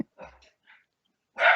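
A small dog in a yard barking at deer: a few sharp, short barks and yips, fairly faint, separated by silence, with a louder bark at the end.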